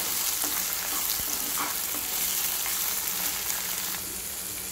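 Ginger garlic paste fries in a pan with a dense, loud, even sizzle and crackle, with a few faint stirring taps beneath the steady hiss.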